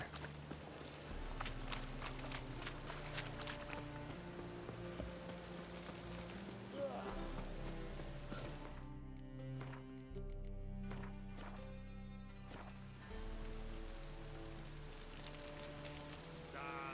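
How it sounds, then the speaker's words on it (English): Steady rain patters across surfaces in the video game The Witcher 3: Wild Hunt, beneath a low droning background, with faint thuds and clatters scattered through it. "Looks like rain."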